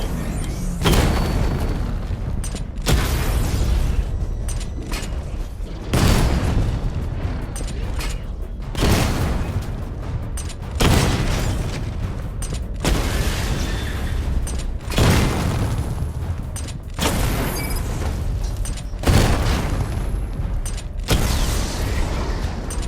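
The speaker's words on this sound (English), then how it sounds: "Charge the missile barrage to level 2 to destroy up to 4 targets at once" Batmobile missile barrage in Batman Arkham Knight, repeated loud booming volleys of explosions, roughly eight heavy bursts spaced a couple of seconds apart, each with a rumbling tail and mechanical clanks between them.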